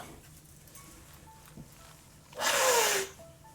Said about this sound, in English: Now I blow my nose again.